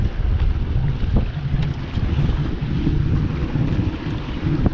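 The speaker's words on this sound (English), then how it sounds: "It's just so windy." Strong wind at boat ramps buffets the microphone with low rumbling gusts, steady and loud throughout, with faint knocks in the background.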